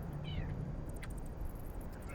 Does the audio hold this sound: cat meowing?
yes